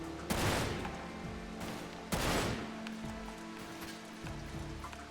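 Two sharp sniper gunshots ring out a couple of seconds apart in the video game Final Fantasy VII: Dirge of Cerberus, each with a long echoing tail over a faint hum of background game sound.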